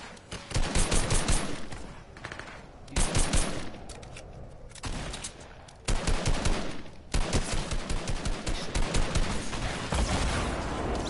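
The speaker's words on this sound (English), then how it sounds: "Shooting anyone that lands." Video game gunfire in a team battle royale, rapid automatic bursts fired at players landing, loud and close, coming in several separate volleys with short pauses between.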